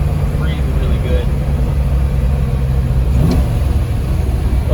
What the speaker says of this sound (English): Those downshifts are just unbelievably good.